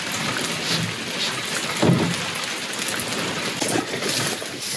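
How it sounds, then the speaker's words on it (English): Steady rain hisses across the whole stretch during a chicken coop build, a dense even patter with one brief louder knock near the middle and no voices. "we've been doing what we can considering it is raining."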